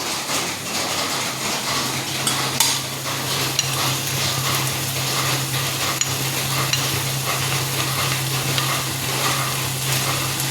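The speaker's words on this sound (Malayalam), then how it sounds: "നമ്മളുടെ ഡ്രൈ ചെമ്മീൻ ഇതാ ഇട്ട് കൊടുത്തിട്ടുണ്ട്" Dry prawns sizzle and fry in a pan at close range, with a steady crackle and frequent scraping clinks of a utensil as they are stirred, continuing evenly throughout with no talk.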